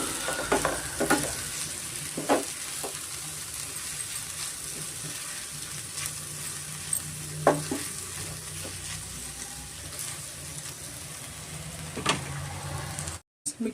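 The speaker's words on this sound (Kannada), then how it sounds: "ಮಿಕ್ಸ್ ಮಾಡಿಕೊಟ್ಟು 1-2-3 ನಿಮಿಷ ಸ್ವಲ್ಪ ಮೀಡಿಯಮ್ ಫ್ಲೇಮಲ್ಲೇ ನಾವು ಬಿಸಿ ಮಾಡ್ಕೊಬೇಕಾಗುತ್ತೆ ಅವಲಕ್ಕಿನ" Cucumber avalakki (flattened rice) is stirred in a pan over a medium flame, with a steady soft sizzle and repeated scraping knocks of the spoon against the pan, close by.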